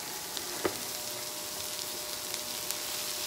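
Onions and peppers sizzle in a frying pan, a steady hissing crackle with a few small pops and a faint clink, heard close and alone with no talk.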